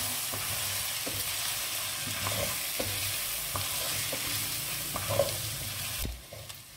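Powdered spices and whole cumin are stirred into chicken in a pan. A spoon scrapes and taps softly over a low, continuous sizzle, with no voices.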